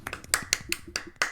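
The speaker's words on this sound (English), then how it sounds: "let's farm some claps for the author" A single person claps hands for an author in a handful of close, sharp, slightly uneven claps with short gaps between them.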